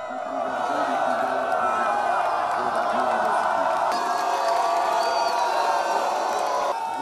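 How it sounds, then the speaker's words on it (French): A large crowd cheers wildly as troops parade past at an outdoor national celebration, a dense sustained roar of shouting and whooping voices that stays loud and steady throughout. "la foule est en délire"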